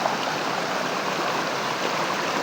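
River water flowing steadily over rocks, a close, continuous rushing and gurgling wash with no other sounds.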